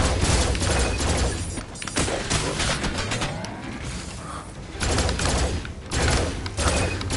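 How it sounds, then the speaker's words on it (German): Bursts of rapid gunfire in the video game Farpoint crackle in repeated volleys, loud and close, with brief lulls between the rattling shots. "Ich vergesse immer, dass die Schüsse von der auch abprallen können."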